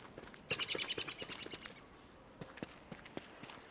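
Bird chirping in the video game Don't Starve: a quick run of bright, high-pitched tweets lasting about a second, followed by soft scattered footsteps and small taps at low volume.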